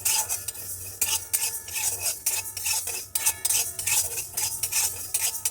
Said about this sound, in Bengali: এবার কালো জিরেটা একসঙ্গে নাড়বো